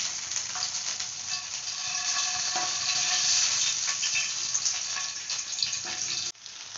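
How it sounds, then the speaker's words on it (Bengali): Chicken pieces for butter garlic chicken sizzle steadily in a hot pan, a close, continuous crackling fry that cuts off abruptly near the end. "এইভাবে বাকি টুকরোগুলো ভেজে নেব।"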